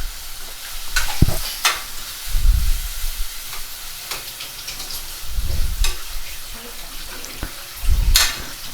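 A spatula repeatedly scrapes and stirs a pan of Gobi Manchurian sauce made with ketchup and chutney, the thick mixture sizzling underneath with a few louder clanks and scrapes spread across the stretch; no one speaks.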